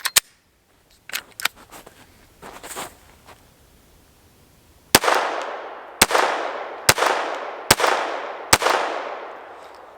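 Glock 44 pistol firing five sharp reports at an even pace, each with a ringing echo tail, preceded by softer handling clicks and rustles.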